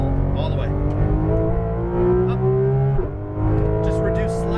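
Porsche GT2 RS engine pulling hard at full power on a race track, loud steady roar with rising pitch, a brief shift dip near the three-second mark, under a voice giving instructions.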